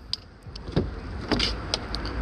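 Electric power windows on a Volkswagen Polo Comfortline 1.0 five-door whir in short bursts, with a few clicks and soft thumps close by inside the car.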